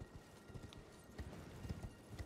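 Quiet, rhythmic hoofbeats of a spectral steed in Elden Ring clip-clop at a steady pace, with a faint whinny-like tone in the game-style ambience.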